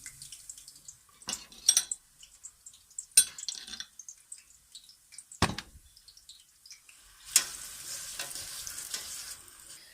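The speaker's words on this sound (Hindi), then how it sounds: "उसमें मैं 3 से 4 अदद प्याज जो हैं उनको बारीक काट कर फ्राई करूँगी" Finely chopped onions frying in a large open wok: a quiet steady sizzle with scattered stirring clatters and scrapes, the sizzle swelling louder near the end.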